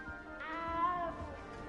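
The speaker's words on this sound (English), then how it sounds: "You don't need to be frightened, little cat." A small cat in the Hogwarts video game gives a single soft, rising meow, faint and close, against a quiet ambient background with a low musical drone.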